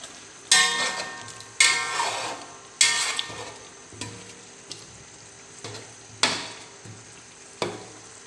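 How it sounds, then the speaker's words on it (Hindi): Spoon stirring chicken pulao in a pot, a series of crisp scraping strokes, each flaring with a burst of sizzling that fades before the next, roughly every second, with no talk. "5 मिनट के बाद फिर मैं अभी चम्मच चला रही हूँ"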